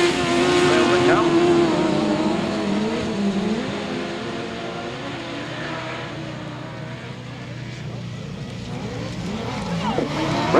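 Grasstrack motorcycles race round a dirt circuit at a British Masters meeting, their engines droning and rising and falling as the pack passes, with a commentator talking over the noise.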